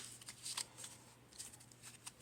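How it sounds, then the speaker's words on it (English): A deck of playing cards shuffled at a solo tabletop game, quick riffling bursts of crisp flutters repeating in short clusters, close and fairly quiet with no talk. "shuffle again"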